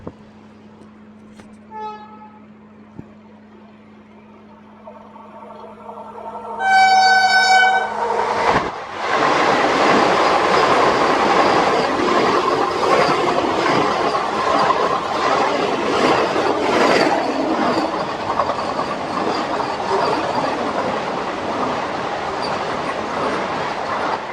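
A train horn sounds twice, then the Secunderabad–Tirupati Vande Bharat express roars past loudly and close at a station crossing, a continuous rushing clatter of wheels on rails.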